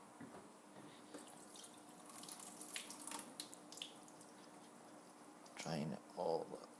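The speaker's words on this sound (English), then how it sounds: "Drain all the water out." Water drains from a cooking pot into a kitchen sink, a quiet trickling and splashing that swells into a louder gush near the end.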